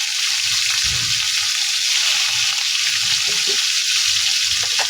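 Continuous loud sizzling of chicken frying in oil, a dense steady hiss with faint low clatters underneath.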